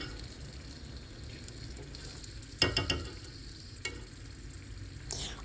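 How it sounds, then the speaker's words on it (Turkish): A spoonful of butter being stirred into a hot dessert mixture in a pan, a soft constant sizzle with a few clear spoon scrapes and clinks standing out, close up, no voices. "Ekledikten sonra şöyle bir karıştırıyorum tekrardan"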